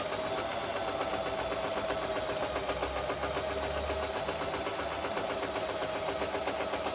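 A Janome sewing machine stitching with a fine hemming foot, a close, continuous rapid mechanical chatter with an even, unbroken rhythm throughout.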